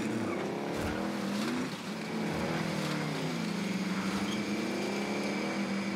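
A car engine revs and shifts gears in the video game Warzone Pacific. It drones on steadily and loudly, the pitch rising and falling, with occasional tire noise and distant gunfire.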